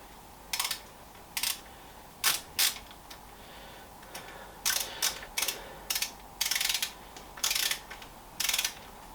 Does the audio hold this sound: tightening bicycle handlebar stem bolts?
yes